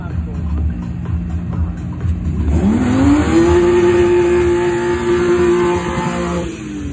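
A 1990s Audi race car at a Slovakia Ring motorsport festival, its engine idling with a rough burble and then revving up into a rising, sustained high-pitched howl, with crowd voices and other cars faintly in the background.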